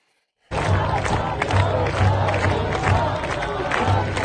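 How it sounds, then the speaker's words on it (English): A large crowd chants at night in Tehran, a rhythmic roar of many voices repeating a slogan, loud and sustained after a brief moment of silence. "people are not giving up. Out chanting, "Long live the king.""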